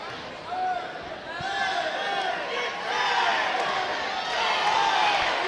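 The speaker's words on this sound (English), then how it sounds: "now you hear the Slidell cheering section getting loud" A high school crowd cheers loudly at a girls basketball game in a Slidell gym, steady roaring voices with bright shouts rising and swelling across the whole stretch, and a sharp thud or two underneath.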